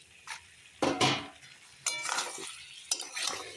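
Cauliflower being stirred and lightly fried with spices in a pan for a Bengali cauliflower curry, with three distinct scraping strokes of a spatula against the pan over a soft, steady sizzle, close up.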